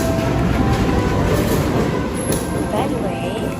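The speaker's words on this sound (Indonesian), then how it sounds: "ini dia kereta kita" A passenger train arrives at platform 2 of Cimekar station with a loud, continuous rumble and rail noise. A high metallic squeal rises near the end and faint voices can be heard underneath.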